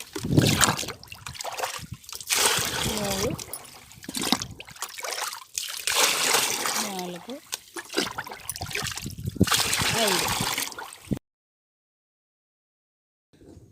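Water is poured to thin thick sour buttermilk for use on plants, close trickling and splashing in several bursts, with brief pauses between pours and silence at the end.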